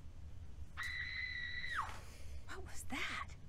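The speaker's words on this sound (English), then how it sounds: "Oh, that was a scream." A scream in the Nancy Drew: Warnings at Waverly Academy video game, set in a prep school dormitory at night: one long, steady, high-pitched cry that falls sharply at the end, followed by a few faint, breathy vocal sounds.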